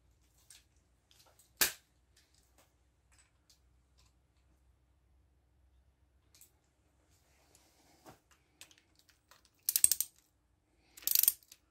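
A torque wrench tightens small bolts on a Kawasaki KZ1100 cylinder head. Sparse, faint mechanical clicks lead into short bursts of rapid ratcheting near the end, in an otherwise quiet workshop.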